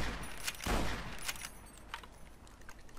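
A rifle fires in the video game Fallout: New Vegas, one sharp, punchy shot near the start, followed by faint clicks and mechanical rattles at a lower level.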